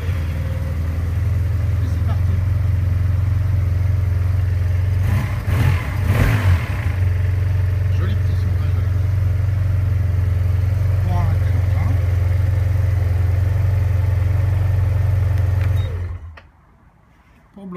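A 2015 Yamaha T-Max scooter engine fires and settles into a loud, steady low idle, running on evenly before cutting off abruptly near the end.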